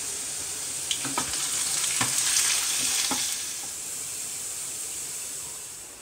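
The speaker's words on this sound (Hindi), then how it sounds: "यहाँ फ्राई पैन में 1/4 कप ऑयल गर्म हो रहा है" Ginger fries in a quarter cup of hot oil in a frying pan, a close hissing sizzle with a few sharp pops early on that gradually settles to a softer, steady fry.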